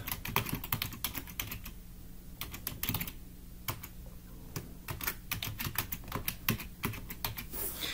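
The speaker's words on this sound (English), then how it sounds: "type in the email address associated with your account" An email address is typed on a computer keyboard in a quiet room, a steady run of close, crisp key clicks with short pauses, no voices.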